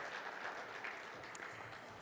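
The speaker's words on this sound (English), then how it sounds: "Let's give him a warm, warm round of applause." Quiet, distant applause from a conference audience welcoming a finance academy director to a session panel, a soft even patter of clapping heard alone.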